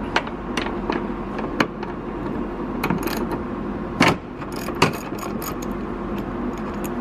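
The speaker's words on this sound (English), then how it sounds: "let's look at the crescent wrench and take this off right here" A crescent wrench loosens a part on the hatch gas lift struts of an Acura Integra, producing a string of sharp metallic clicks and ratcheting knocks at irregular intervals, close up, with no talking.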